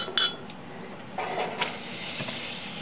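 Ingredients for a red taco salsa are dropped into a blender jar, giving a couple of light clinks and rattles against the jar with soft rustling in between, quiet and close.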